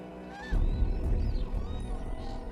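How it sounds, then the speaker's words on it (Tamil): Male cranes give loud honking, trumpeting calls during a courtship dance in front of an oak tree, rising abruptly and continuing as a dense chorus with no talking. "ஆண் பறவைகள் ரொம்ப பெருமையா தங்களோட இறக்கைகளை விரிச்சு கழுத்தை நீட்டி சத்தம் போடும்."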